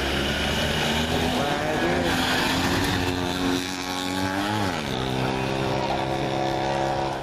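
Citroën 2CV rally car on a rally stage, a buzzing engine loud and close throughout with a pitch dip as it passes, while people talk excitedly over it.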